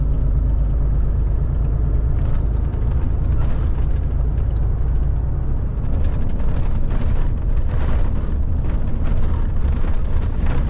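Loud, continuous engine rumble and road noise from inside a car driving carefully at about 60 over patchy, bumpy asphalt, heavy and constant throughout.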